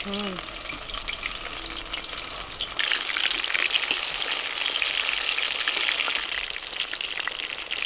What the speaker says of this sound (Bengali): তেল তো গরম আছে এবার তেলের মধ্যে আস্তে আস্তে ছেড়ে দেবো